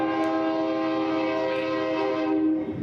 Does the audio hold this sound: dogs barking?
no